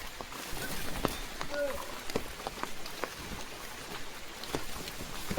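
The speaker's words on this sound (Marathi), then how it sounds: "बाहेर कसलो आला पाऊस पडत तो तुमका दिसता काय माहिती नाही" Rain pattering on a surface outside, with scattered sharp drips and taps over a soft hiss, fairly quiet and steady.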